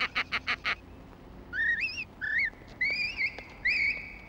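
A man whistles an imitation of a Spanish canary's song, with bright rising and warbling phrases in several bursts after a few short sharp sounds at the start.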